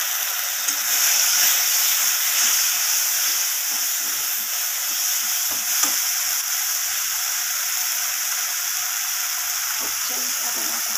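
Garlic paste and spices frying in a pan with a splash of water, a steady, bright, close sizzling hiss that holds evenly throughout with only slight flickers.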